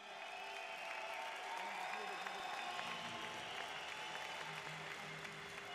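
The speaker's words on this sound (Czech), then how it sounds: "Dámy a páni, veľký potlesk" A crowd applauds after a fight event, steady sustained clapping throughout with someone talking over it on a microphone.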